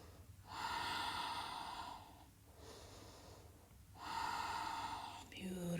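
Slow, deep breathing from someone holding a yoga core-strengthening pose: three long, hushed breaths with airy, strained rasps and short pauses between them, heard close and quiet.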